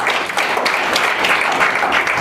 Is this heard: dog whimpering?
no